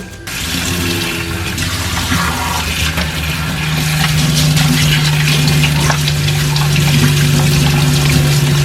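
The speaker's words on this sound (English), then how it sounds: "Stuff gets stuck right here, and we're going to need to rinse that as well." Tap water runs in a strong, steady stream while parts of a Bissell CrossWave wet vacuum are rinsed, a loud continuous splash and gurgle close by with no talking.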